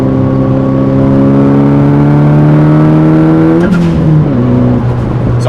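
A tuned 350bhp Nissan Pulsar GTiR accelerating hard, its loud engine note climbing steadily in pitch, then dropping sharply at a gear change and pulling again, heard close and alone.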